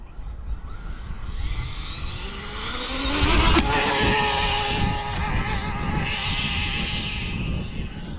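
An Arrma Felony RC car on a high-speed pass winds up with a rising electric motor whine that peaks loud and close as it rushes by, then carries on at a high, steady pitch.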